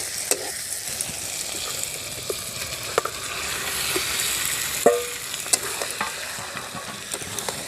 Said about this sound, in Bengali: এখন ম্যারিনেট করা মাংসটা দিয়ে দেব।